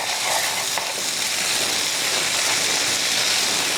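Vegetables for a keto chicken teriyaki cauli-rice bowl cook down in a pan, giving a loud, dense, continuous sizzle with faint stirring, up close and without a break.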